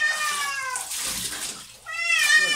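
A cat cries with drawn-out, wavering meows during its bath, one long cry followed by another after a brief pause, close and loud over faint splashing water.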